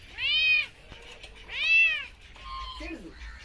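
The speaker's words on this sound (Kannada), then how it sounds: "Persian cat" A Persian cat meows twice, loud and close, with a third shorter, wavering cry after a pause and a faint low rumble underneath.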